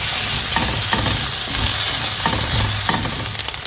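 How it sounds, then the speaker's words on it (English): Onions frying in a pan for beef stroganoff, a steady close sizzle with occasional stirring scrapes throughout. "So we really need to fry your onions to be fried."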